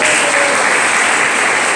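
Church congregation applauding the Messiah, loud, dense, even clapping from a large crowd filling the space without pause.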